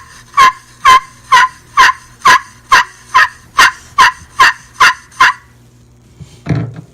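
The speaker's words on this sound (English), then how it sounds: "This is a carbon fiber one. It's a little bit sharper sound." A carbon fiber wing bone turkey call gives a rapid, sharp series of about eleven evenly spaced, loud yelps close up, followed by a brief rustling thump at the end.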